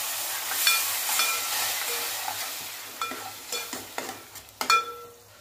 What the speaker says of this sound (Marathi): थोडंसं पाणी टाकून आणखीन थोडंसं भाजून घ्यायचं आहे आपल्याला।